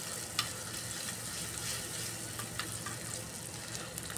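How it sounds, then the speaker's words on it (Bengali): Ginger and garlic frying in ghee while being stirred, giving a steady close sizzle throughout with a few brief clinks of utensils and no talking. "এই আদা রসুনটা ঘিয়ের মধ্যে দিয়ে একটু সময় নাড়াচাড়া করে হালকা ফ্রাই করে নিতে হবে।"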